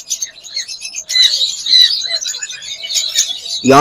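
Caged lovebirds, a Lutino and Creamino breeding pair, chirping close and loud in quick repeated bursts, ending with a sudden rising squawk.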